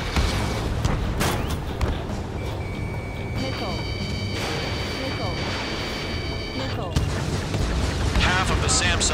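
A missile launches in the jet combat game Ace Combat 7, its burst lost in a steady roar of engines and explosions, with high electronic warning tones and radio voices talking throughout.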